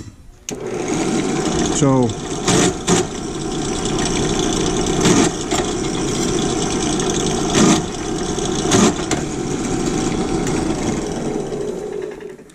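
A drill bit bores a quarter-inch hole through knife steel, a steady machine whine running nearly the whole time with brief changes in pitch and a few short knocks, while someone talks over it.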